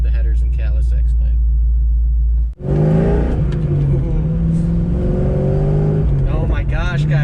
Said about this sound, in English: it does sound a lot better with the headers and catless X-pipe